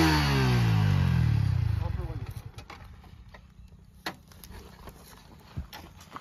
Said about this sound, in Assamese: আৰু এটা RPM আপোনালোকক দি চাইছোঁ